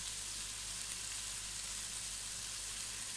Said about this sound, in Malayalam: സവാള നമുക്ക് നന്നായിട്ടൊന്ന് വഴറ്റിയെടുക്കാം